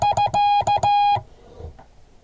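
Morse code prosign SK sent as a steady beeping tone, a quick run of short and long pulses that stops after about a second, followed by quiet background.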